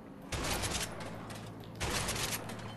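Heavy gunfire in the video game A Way Out, with two loud bursts of shooting that fill the clip.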